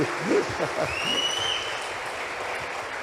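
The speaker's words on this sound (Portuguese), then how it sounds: "A Deus dê uma forte salva de palmas." Church congregation applauding during a conference sermon, a broad, diffuse clapping that sits over a reverberant room, with a voice briefly heard at the start and a faint tone lingering.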